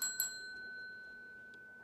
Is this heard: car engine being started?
no